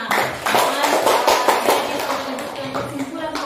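A class claps for a student named Husna in a school lesson, a burst of dense clapping lasting a few seconds with talk and chatter mixed in.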